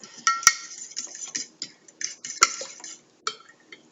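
Beaten eggs and milk are stirred and whisked in a bowl, with quick, irregular clinks and taps of utensil against the dish, close and fairly sharp, with no voices.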